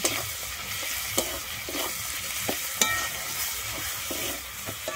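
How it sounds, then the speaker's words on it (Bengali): Fig curry with turmeric and salt being stir-fried in a pan, a steady hiss of sizzling oil broken by sharp scrapes and clacks of the spatula. "আর দিচ্ছি আমি হলুদ দিয়ে আমি এবারে ভালোভাবে কষিয়ে নেব।"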